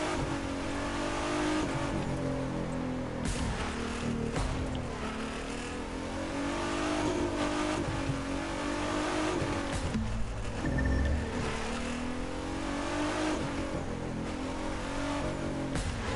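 A Honda car in The Crew 2 racing game revs hard and continuously with a gruff, grunty engine note, rising and falling through gear changes over steady road noise, loud and close with no talking.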